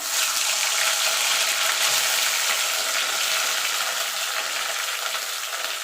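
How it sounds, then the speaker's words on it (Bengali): Okra pieces fry in heated oil for a spicy okra and potato dish, producing a loud, continuous sizzling hiss close up that holds steady from start to finish with no talking. "তেলটা গরম হয়ে গেছে এবার আমি ভেন্ডিগুলো ভেজে নেব"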